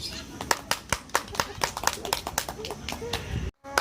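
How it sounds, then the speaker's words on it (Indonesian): An audience claps in a short burst of scattered, uneven claps that run close and fairly loud for a few seconds before cutting off abruptly. "Jangan lupa tepuk tangan biar rame."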